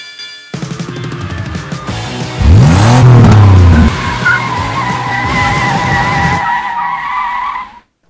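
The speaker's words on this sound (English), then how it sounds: "That's the sound of 200 horsepower and German engineering" BMW with a 200-horsepower engine revving loudly as its tires screech and skid, a rising whine and sustained squeal up close, with no voices.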